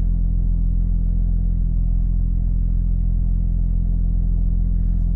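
A 500hp single-turbo BMW 335i driving on the road, heard from inside as a constant loud low drone and rumble with no distinct revs or pulls, steady and unbroken.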